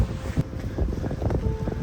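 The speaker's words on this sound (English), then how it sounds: "It's nice and windy up here." Wind gusts across a winter mountain summit at Dragon's Tooth, buffeting the microphone in low, uneven rumbling bursts with no speech.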